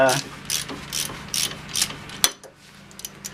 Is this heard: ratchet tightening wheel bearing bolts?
yes